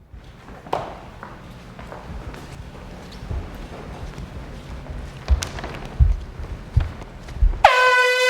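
Bootcamp wake-up air horn: after several seconds of rustling, thumps and footsteps, a loud sustained horn blast cuts in near the end and holds until the clip stops.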